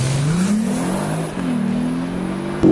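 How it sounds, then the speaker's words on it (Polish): A Porsche Panamera 3.6 V6 with PDK, naturally aspirated and chip tuned, runs loud and close with a steady droning engine note that climbs gradually, then a sharp jump in revs at the very end. "W tej chwili brzmienie tej V6 jest naprawdę przyjemne, miłe dla uszu"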